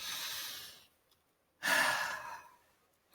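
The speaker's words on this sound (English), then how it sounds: "concentrate on breathing in through your nose and out through your mouth, deeply" Slow, deep breathing in through the nose and out through the mouth during a guided exercise: a long soft exhale, a pause of silence, then a louder, fuller breath, heard close and alone.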